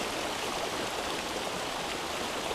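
A murky river flows steadily, its continuous broadband rush and gurgle even and unbroken at a moderate distance, with no voices or other sounds over it.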